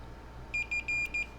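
Multimeter continuity tester beeping while probing a shorted line on a motherboard: four short, clear high-pitched beeps in quick succession, close and alone.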